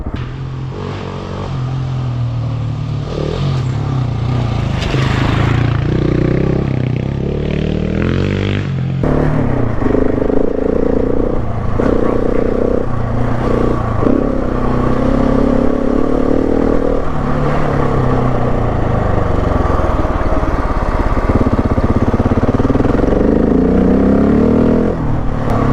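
A Husqvarna 701 Enduro motorcycle loaded with camping gear ridden on mountain dirt tracks. The engine is loud and close, revving up and down with shifting pitch and a gear change partway through.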